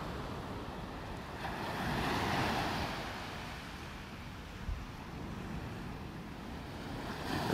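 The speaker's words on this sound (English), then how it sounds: "Not as many waves as the other day." Ocean surf rolls onto a beach in North Naples, Florida on calm water. Steady, fairly faint wash of waves swells and recedes, mixed with wind rumble against the microphone.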